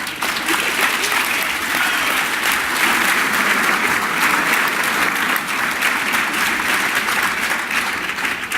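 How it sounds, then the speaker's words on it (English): Sustained, loud applause from a dinner audience at a Connecticut GOP awards dinner, many hands clapping in a thick, even roar that holds steady for over eight seconds before easing slightly. "Can I get a round of applause?"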